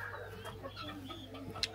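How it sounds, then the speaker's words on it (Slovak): Turkeys on a farm give faint, scattered clucking and gobbling calls at a distance, with a steady low hum underneath. "Tu sú morky."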